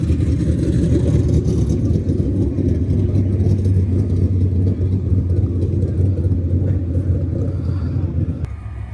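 A car engine revs at a drag event, a loud, dense low-end roar held close and steady for several seconds before easing off, with a sharp break near the end.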